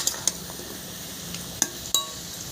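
A lid comes off a pan of fried taro with a few sharp metallic clinks and clatters spread over a couple of seconds, quiet, over a faint kitchen hiss.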